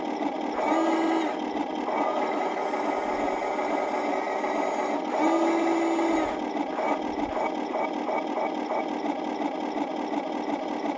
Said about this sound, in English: And it does have turret ring noise.